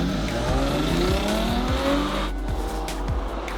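A Hyundai car launches hard off the line, engine revving up through rising gear pitches with a brief tire squeal, loud and close, pulling away steadily over a few seconds.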